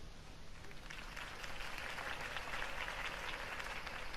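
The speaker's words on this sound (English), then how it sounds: "If only Mr. Wayne, my campaign's largest backer, could have heard that applause" Crowd applause in the Batman Telltale video game, rising after a campaign speech into a steady, moderately loud wash of clapping that holds to the end.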